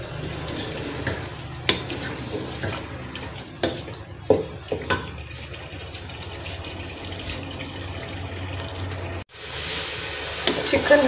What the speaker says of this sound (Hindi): तो इसको अच्छी तरह मसाले में फ्राई कर लेंगे।